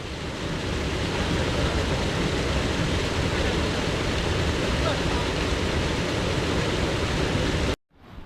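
A strong river current rushes through a traditional fishing dam on a Konkan river, a loud, steady, broadband roar of flowing water that fills the whole stretch before cutting off abruptly at the end.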